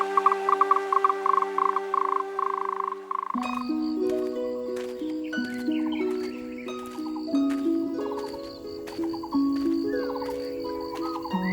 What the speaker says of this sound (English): listen to the myriad of frogs and insects